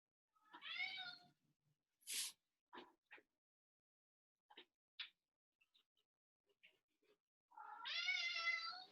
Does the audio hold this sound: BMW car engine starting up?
no